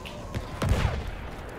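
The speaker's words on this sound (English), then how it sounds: "Rafi, there's something shooting at us" Gunfire in the World War I shooter game Battlefield 1: a few quick bursts of distant-sounding shots over a steady battlefield rumble, with a sharper cluster of reports in the middle.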